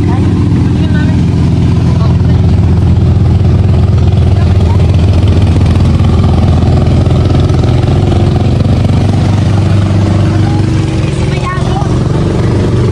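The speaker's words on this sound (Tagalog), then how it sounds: "May bangka pong paparating. Bangkang demotor." A steady low engine drone of a motorboat approaching at a fishpond, continuous throughout, with some voices in the background.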